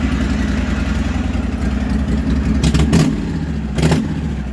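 A small engine, likely a snowblower during a March snowstorm, runs steadily with its choke partly on, a rough low idle that surges and revs briefly twice near the end, loud and close with no talk.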